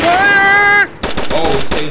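Gunfire in the GTA San Andreas DayZ mod game, a loud burst of rapid automatic shots that follows a sustained tonal sound and plays close and harsh.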